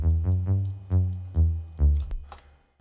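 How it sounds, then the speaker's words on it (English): A bass synthesizer plays alone, four distinct low sustained notes in a simple steady rhythm, close and clean, with a short tail at the end. "I added a bass synthesizer."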